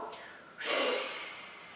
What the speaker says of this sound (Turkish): Ve burundan nefes al